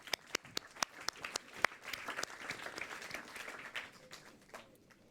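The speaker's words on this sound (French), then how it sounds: "Je pense qu'on peut encore vous applaudir." A gathering of people at a workplace mobility challenge award event applauds, starting with a few sharp, distinct claps that swell into a soft, scattered round before trailing away.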